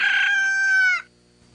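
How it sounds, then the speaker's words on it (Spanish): One loud, close rooster crow rings out alone as a radio show segment opener, holding steady before cutting off sharply. "El despertar del gallo."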